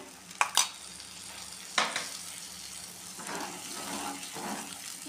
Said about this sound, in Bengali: জল দিয়ে দিচ্ছি। একটু জল দিয়ে দেবেন।